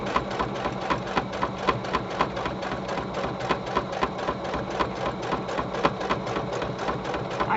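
A sewing machine stitches slowly through fabric for a package cover. Its needle makes a steady, evenly spaced clatter under a constant motor hum, close and clear, with no talking.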